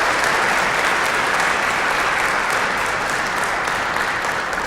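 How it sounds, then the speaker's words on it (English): A church congregation at Sunday Mass breaks into sustained applause, a dense, even wash of many hands clapping that fills the space from start to finish. "she deserves a round of applause"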